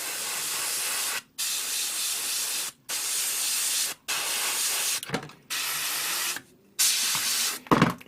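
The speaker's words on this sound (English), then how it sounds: "This will be my primer airbrush." An airbrush sprays primer for a model kit in repeated bursts of steady hiss broken by brief silent pauses, close and fairly loud, with a short spitting sputter near the end.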